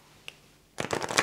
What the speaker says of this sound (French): Je vais mélanger encore une fois.